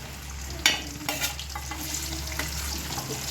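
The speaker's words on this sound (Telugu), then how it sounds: "ఈ చికెన్ అంతా మనము డీప్ ఫ్రై చేసుకోవాలి" Chicken pieces deep frying in hot oil in a pan for chicken pickle, a steady close sizzle with a few sharp clinks and stirring scrapes near the start, no voices.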